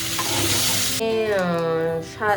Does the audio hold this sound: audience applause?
no